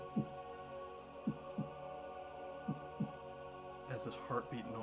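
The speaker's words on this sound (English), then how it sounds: "as this heartbeat noise just begins echoing in your heads" A heartbeat sound effect for a dark tabletop fantasy roleplaying scene throbs low and clear in paired thumps, repeating about five times at an even pace over a steady hum, with a brief rising swell near the end.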